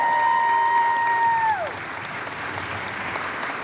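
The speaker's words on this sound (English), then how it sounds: "Mr. Phil Reed, who deserves a huge round of applause" Applause from an audience at a Title IX celebration honoring a coach. It starts under a fading tone or musical note and continues as steady, moderately loud, sustained clapping.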